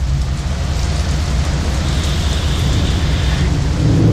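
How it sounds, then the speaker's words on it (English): Steady heavy rain pours down in a Florida thunderstorm with a deep rumbling thunder underneath, loud and continuous throughout with no voices. "Fuck you, Thunder!"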